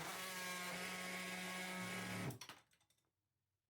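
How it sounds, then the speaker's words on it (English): A small high-speed Dremel rotary tool drilling into wood whines steadily at close range, then cuts out abruptly and spins down in a few rattling bursts before falling silent. "A Dremel combined with a workstation is a solid way to do it."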